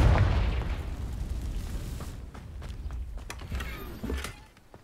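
A Confringo fire spell bursts in Hogwarts Legacy with a loud, heavy boom up front that rolls off into a low rumble, followed by a couple of smaller pops as it fades.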